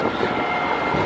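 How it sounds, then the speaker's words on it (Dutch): Tram number 7 arriving at a stop, a loud, steady mechanical rumble and roar close by, with no speech. "Kijk, daar komt al tram 7 aan."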